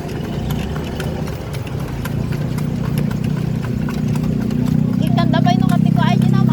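Horse hooves clip-clop in a steady rhythm as the horse pulls a kalesa carriage, with an engine hum underneath and people talking nearby.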